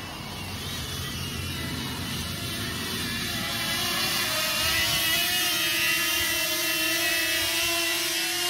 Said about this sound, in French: Bon, il est pas moche, hein, comme drone. Hein, mais il n'est pas discret.